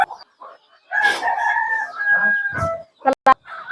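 Chickens cluck nearby and a rooster lets out a crow, with a few short squawks near the end.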